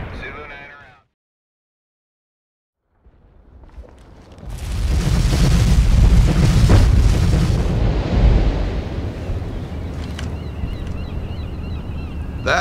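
A B-52 bombing run in the video game World in Conflict: after a brief silence, heavy rumbling explosions swell and roll on loudly for several seconds, then settle into a sustained low roar with scattered crackles.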